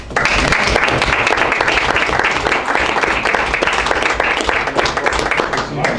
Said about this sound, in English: Please give a big round of applause and heartfelt thank you to Ken for his incredible 25 years of service.